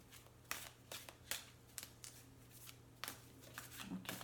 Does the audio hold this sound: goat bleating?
no